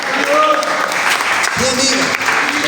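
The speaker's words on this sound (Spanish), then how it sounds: "Dale un fuerte aplauso al Señor." Applause fills a church congregation, a steady wash of clapping that runs the whole time, with a voice and some sung or sustained tones riding over it.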